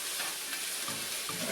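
Red pepper and onion fry in a little olive oil in a pan, giving a steady close sizzle with soft stirring scrapes, and no one talks over it.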